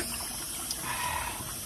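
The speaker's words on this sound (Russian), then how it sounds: "Есть водопойчик, можно попить воду." Water runs from a beach drinking fountain at a Black Sea sanatorium in Tuapse, making a close, steady splashing gush without a break and no speech.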